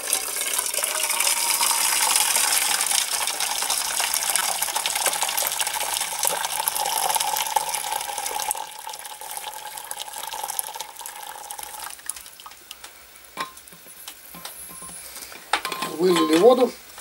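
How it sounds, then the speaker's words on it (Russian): Boiled water pours steadily from a kettle for brewing chaga birch mushroom, a continuous close gushing stream that thins and trickles off toward the end. "и наливаем туда кипяченую воду."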